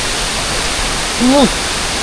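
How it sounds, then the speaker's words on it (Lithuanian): A waterfall on Lombok roars as a constant, even wash of rushing water, loud and close. A brief voice sounds once partway through. "Nuostabus kriokliai šitie."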